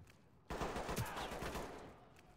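Gunshots in Ready or Not, a sudden burst of rapid fire starting abruptly, moderately loud, then trailing off into a fading echo.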